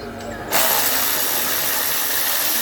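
Parkside 12V cordless ratchet whirring into action after a quiet moment, spinning a bolt off in a steady, close, continuous mechanical buzz.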